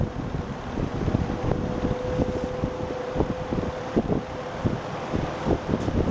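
Vintage General Electric 20-inch rollabout box fan running close by, a steady airy rush with a faint hum and soft repeated ticking throughout.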